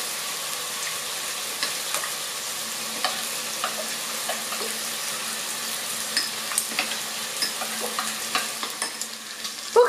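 Bacon sizzles steadily in a pot for bean soup, a close, even frying hiss with small pops and stirring clicks that grow busier toward the end, with no voices.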